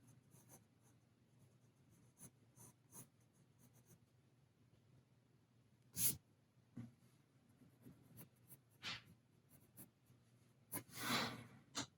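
A pencil sketches a gesture drawing of a human figure on paper, quiet scratchy strokes in short irregular bursts with a few louder sweeping lines, close and faint in an otherwise still room.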